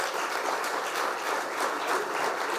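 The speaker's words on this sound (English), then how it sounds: "may we have a big round of applause for architect Sachin Agshikar" A conference audience gives architect Sachin Agshikar a dense, steady round of applause, many hands clapping together at an even level throughout, without speech.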